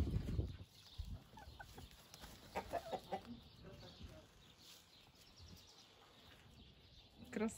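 Laying hens cluck softly on a farm while being treated for parasites. The clucks are faint, scattered bursts mixed with a person speaking nearby, and a louder rustle comes at the start.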